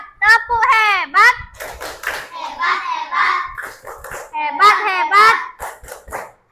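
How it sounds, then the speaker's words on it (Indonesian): Classroom of Indonesian primary school children doing the 'tepuk hebat' clapping chant: energetic young voices chanting in rhythm with bursts of hand claps, loud and close, with a teacher's voice mixed in. "Kita kasih tepuk hebat."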